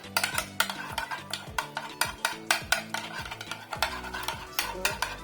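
Yogurt being stirred into chicken handi: a steady, quick rhythm of spoon scrapes and clacks against the pot, close and fairly loud, with a faint sizzle underneath and no speech.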